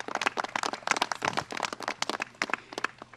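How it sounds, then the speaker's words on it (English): Audience applause for a Senator at a political press event on New York tax deductions: dense, sustained clapping from a crowd, fairly close, with no speech over it. "let's give the Senator a round of applause and thank him for his leadership"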